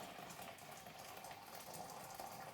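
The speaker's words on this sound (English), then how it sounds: "then 1/2 litre more of boiling water" Boiling water pours steadily into a container of elderflowers and citrus zest for cordial, a continuous close, even gushing splash with no break.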